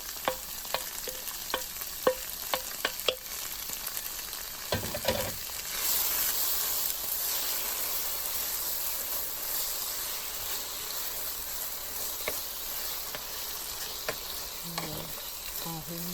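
Chicken pieces for poulet yassa fry together in a pot, a steady close sizzle with occasional clinks and stirring scrapes, no talking.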